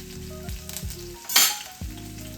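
Cumin, green chili and grated ginger sizzle in hot oil in a pan, a quiet, steady fry marked by a few sharp clinks of a utensil and one brief louder burst of sizzling.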